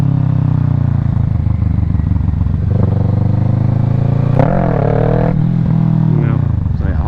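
A motorcycle in a parking lot runs loud and close through a wheelie attempt, with a steady engine drone that climbs into a sharp rev with shifting pitch partway through, along with some clatter and talking.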